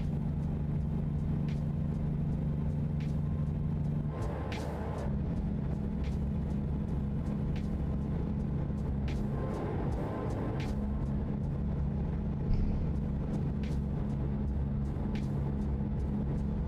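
An airport yard truck engine in American Truck Simulator drones at a low, steady pitch, a constant rumbling hum that swells and roughens briefly midway, with faint ticking clicks over it and no talk.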